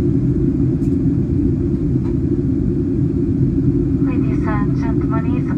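Steady low cabin rumble aboard a Ryanair Boeing airliner descending toward Venice, loud and constant throughout, with a voice briefly speaking over it near the end.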